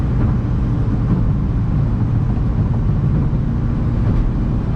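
A BMW 3 Series at full throttle on a night drive, with a loud, steady engine and road roar heard from inside the cabin.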